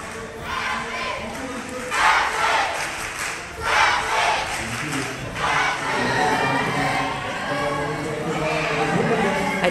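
A hall crowd at a school esports tournament final cheers and shouts, with light effects running. A loud, sustained roar swells in bursts around the second and fourth seconds, then stays steady.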